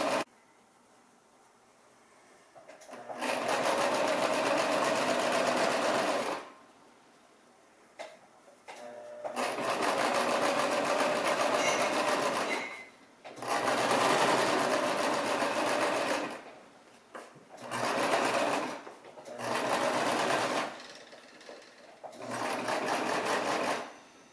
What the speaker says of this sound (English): turning the machine on, and now we're going to stitch around the brim of the hat on the outer edge.